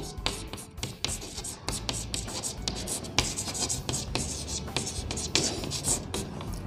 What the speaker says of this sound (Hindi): तो लिख लीजिए यहां पे।